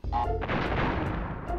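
Booming explosions in the PS1 platform game Crash Bandicoot, a quick burst of heavy blasts and crashing debris, loud and close, lasting under two seconds.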